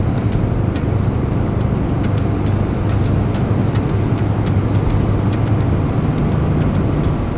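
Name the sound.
car driving on a road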